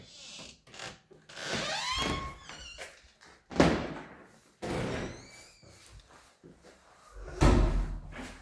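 The old wooden door of an abandoned castle is worked open and shut, with creaking squeals and a series of heavy thunks and knocks spread irregularly over several seconds, close by, with faint voices in the background.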